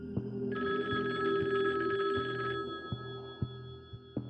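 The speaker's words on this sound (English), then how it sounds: "The next level to the harassment manifested itself in the phone ringing." An old-style telephone bell rings with a rapid metallic trill for about two seconds over a low hum, followed by soft periodic clicks.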